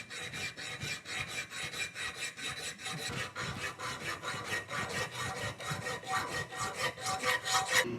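A hand file strokes at an angle across a metal bicycle fork in a workshop, a steady run of roughly rhythmic rasping scrapes, close and fairly loud, with no voices.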